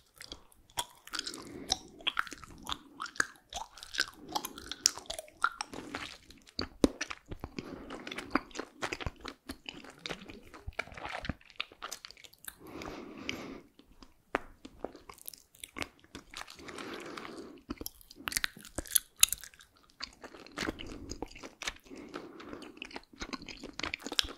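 Gum chewed as noisily as possible right at the mic, with wet smacking and crunchy clicks repeating in bursts and short pauses, close and intimate, no talking.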